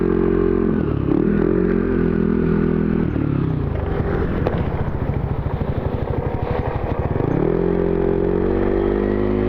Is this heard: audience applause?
no